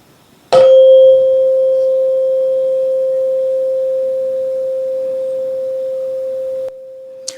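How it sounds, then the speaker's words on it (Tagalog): A 528 Hz tuning fork is struck once with a sharp clink, then rings as a pure steady tone that slowly fades for about six seconds before being stopped, alone in a quiet room. "So ito po guys yung tunog ng tuning fork na ito."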